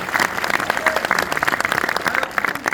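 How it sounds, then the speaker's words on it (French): Close, loud audience applause inside a cinema, a dense patter of many hands clapping steadily throughout the short burst. "On peut les applaudir."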